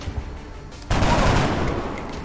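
A burst of gunfire from the turn-based strategy game XCOM: Enemy Unknown erupts suddenly after a quieter stretch and continues as a dense, loud rattle of shots.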